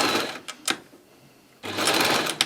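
A sewing machine stitches fabric pieces for a craft pony in two quick bursts of steady whirring, separated by a short quiet pause.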